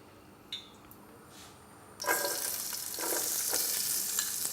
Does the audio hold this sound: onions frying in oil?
yes